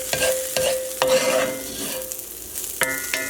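Caramelized shallots sizzle in a frying pan while a utensil scrapes through them in quick strokes, with soft frying crackle throughout.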